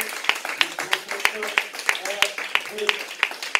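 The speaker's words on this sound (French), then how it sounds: "sous vos acclamations, nous allons accueillir, nous allons recevoir l'homme de Dieu" Congregation at a church service clapping to welcome a prophet: loud, rhythmic claps in a steady beat, with voices calling out and singing underneath.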